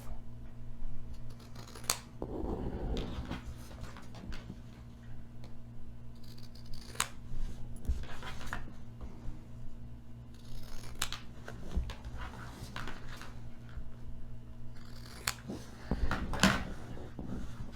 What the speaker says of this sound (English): now I'm just gonna cut off the edges